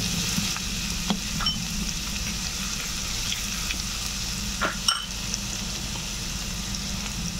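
Garlic, nigella seeds and a pinch of asafoetida sizzle steadily in hot oil for a Bengali ridge gourd dal, a continuous close frying hiss with a few small pops and a faint stir.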